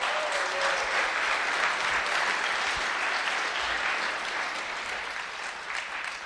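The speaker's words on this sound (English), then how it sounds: "You need to give yourselves a huge round of applause for surviving an entire Startup Weekend." Startup Weekend participants give themselves a huge round of applause: sustained, dense clapping from a sizeable crowd, loud and steady before tapering gently toward the close.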